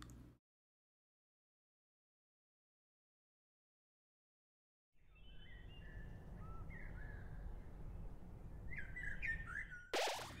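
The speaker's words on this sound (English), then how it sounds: "Oh, the birds are singing." Birds chirping and calling in the video game Undertale, a steady layer of bright tweets over a low background hum that begins halfway through after near silence, with a brief loud burst at the end.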